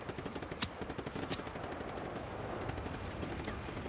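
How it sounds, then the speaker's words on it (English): Rapid automatic gunfire from Just Cause 3 rattles on continuously, with dense bursts of shots and a few louder cracks, steady and fairly loud, without anyone talking. "Firing from his side."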